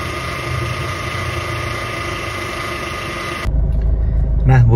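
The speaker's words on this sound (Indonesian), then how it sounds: "bunyi di mesin itu ternyata setelah dicek adalah bunyi puli idle dan tensioner" A Chevrolet Captiva diesel engine idles with a steady mechanical whine and faint rattling from a faulty idler pulley and tensioner, close by, then the tone shifts to a deeper rumble.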